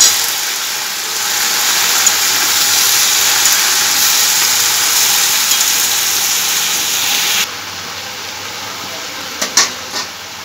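Chopped vegetables stirred in a hot cooking pan give off a steady, loud sizzling hiss that drops to a quieter level near the end, with a few brief scraping clicks.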